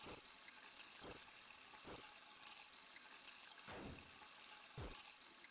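Sink water runs in the video game Deltarune, a faint hissing trickle with several short gurgling bursts and splashes breaking in at irregular moments, no voices over it.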